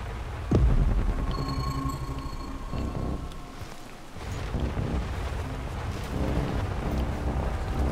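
Thunder in the game Chernobylite, with a sudden close crack followed by a long, deep rolling rumble over windy ambient noise, and further low rumbles fading in and out.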